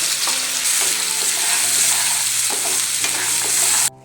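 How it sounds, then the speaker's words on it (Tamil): Ground masala paste fries in hot oil in a pan for a chickpea kurma, giving a loud, steady, close sizzle with faint stirring scrapes that stops abruptly near the end, with no voices. "பேன் காஞ்சோன்னே நம்ம அரைச்சி வச்சுருக்கிற மசாலாவை மட்டும்தான் போட போகிறோம்."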